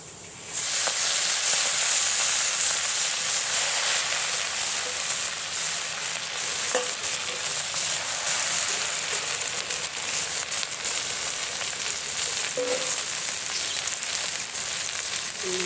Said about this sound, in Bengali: ভাজা হয়ে গেছে, এবার শাকটা দিয়ে দিচ্ছি।